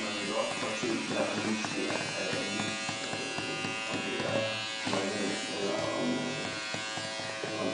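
Electric hair clipper buzzing steadily through a 9-month-old baby's mohawk haircut, continuous close hum throughout with adults talking and cooing over it.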